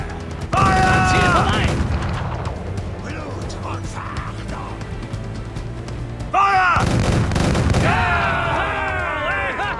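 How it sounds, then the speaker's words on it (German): Two heavy ship cannon blasts boom in Assassin's Creed 4: Black Flag, several seconds apart, each with a rumbling tail, while voices shout over the din. "Bereit zu schießen, Captain! Feuer!"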